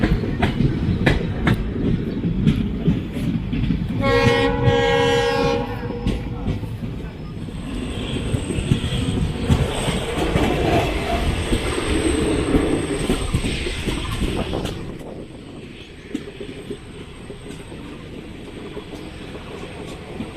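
The Murkongselek Express in northeast India runs behind a WDP-4 diesel locomotive, its steady rolling rumble and rhythmic clickety-clack carrying on with a horn-like tone near the start before fading quieter.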